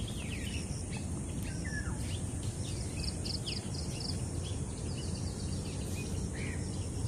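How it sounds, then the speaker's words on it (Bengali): Many quick, high bird chirps and tweets from birds in trees, scattered throughout over a steady low outdoor rumble, moderately distant. "গাছের মধ্যে পাখির কিচিরমিচির শব্দ"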